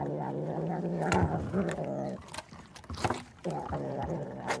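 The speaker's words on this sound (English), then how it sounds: "it's the sound of a purring cat" A cat purrs close up in a steady rumbling rhythm, pausing briefly midway before resuming.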